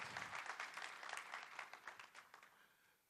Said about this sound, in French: je vous demande de la réapplaudir